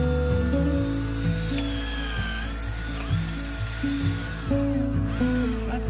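A power drill whines close by, its pitch rising and dropping in repeated bursts as it bores a hole into a tree.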